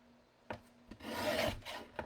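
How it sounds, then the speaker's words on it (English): Paper strips being cut for a stamping craft, a couple of sharp clicks followed by a close, rasping slice lasting about half a second, then a final tap, no talking. "I'm going to cut it at 3/4. And then I'm going to cut it at 1 inch"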